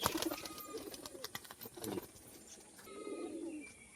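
A female pigeon coos softly in short low throaty phrases, faint and close, with light fluttering and rustling around it.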